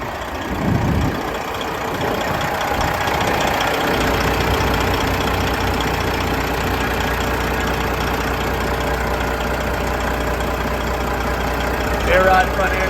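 A 2015 Freightliner Coronado glider truck with a 12.7 liter pre-emission Detroit diesel idles steadily up close, a continuous low rumble with brief voice-like sounds near the start.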